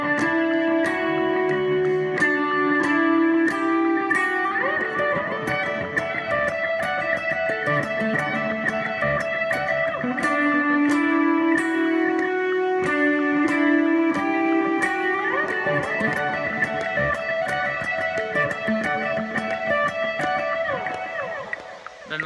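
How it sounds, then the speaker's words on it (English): An electric guitar lead played through a dotted-eighth delay at 90 BPM with reverb, sustained ringing notes echoing in a steady rhythmic repeat under a ticking click, loud and continuous. "It's a dotted 8th delay set at 90 BPM"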